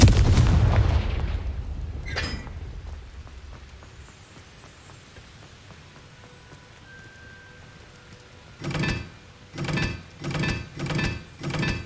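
Confringo fire spell blasts in Hogwarts Legacy, a heavy boom at the start, then a quieter stretch and a series of five rhythmic explosive bursts near the end.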